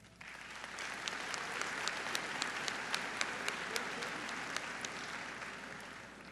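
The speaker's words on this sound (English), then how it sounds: "So round of applause for him." A graduation-ceremony audience at Eugene Ashley High School in 2016 applauds steadily throughout, with individual sharp claps standing out from the dense, even clapping.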